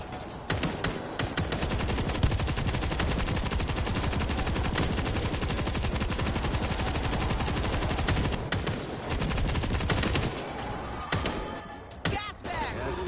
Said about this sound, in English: Take the machine gun.